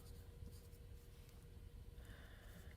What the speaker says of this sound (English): I'm going to just write it right here